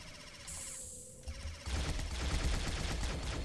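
Gunfire from an indie video game plays as a rapid, dense burst of shots that gets louder partway through, continuous and close with no talking.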